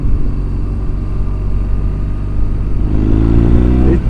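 A 2007 BMW 1200GS motorcycle pulls hard in third gear at about 30 mph, its loud, close engine drone rising steadily in pitch as it accelerates, with wind noise throughout.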